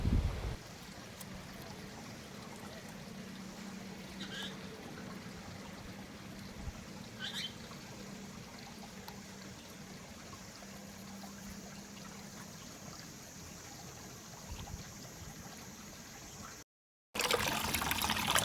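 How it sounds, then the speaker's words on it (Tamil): Aloe vera leaf gel being washed under running water, a steady soft trickle and splash that continues throughout at low level, cut by a brief dropout near the end. "இந்த ஆளோவில் உள்ள அந்த பசை போகிற வரைக்கும் நல்லா நீட்டாக கழுவணும்."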